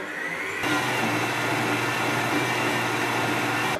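A motorized food processor mixing milk and cream switches on and whirs steadily at a medium pace, a loud continuous mechanical drone that stops abruptly near the end.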